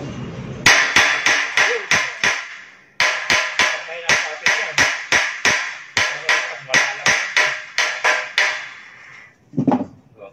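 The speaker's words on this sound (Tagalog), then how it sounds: "Kita naman ninyo, martilyo yung ginagamit natin, hindi siya nalalaglag." Steady hammer blows striking a steel door grill, a rapid run of sharp evenly spaced knocks, a short pause, then another long run, loud and close.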